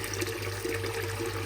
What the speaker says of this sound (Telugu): వాటర్ అయితే నిండుతున్నాయి ఇప్పుడే.